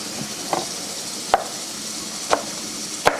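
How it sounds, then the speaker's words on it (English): A knife chops a fresh leek on a cutting board: four crisp, well-spaced cuts land close and clear at an unhurried pace, with no one talking. "We're just gonna chop this up"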